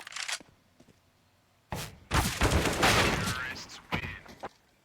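Counter-Strike rifle fire on the Ancient map at a PGL RMR Americas match, Sao Caetano vs 9z, cracks in sharp bursts, a couple of rounds striking a wall amid rapid shots, with a caster talking over the gunfire.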